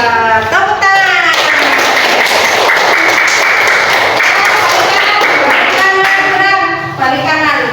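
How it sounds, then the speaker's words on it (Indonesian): Schoolchildren in a fifth-grade classroom burst into loud, sustained hand clapping during a tapping game, with a teacher's voice heard over the start and end of the noisy applause. "Tepuk tangan."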